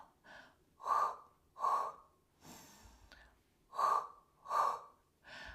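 Paired sharp exhales during a Pilates one-leg kick exercise, two quick breaths, a softer pause, then two more, close and clear with a rustle between.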